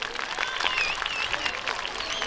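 A crowd applauding at an event in Diyarbakır, dense steady clapping with some whistles or cheers mixed in, sustained for a couple of seconds at moderate volume.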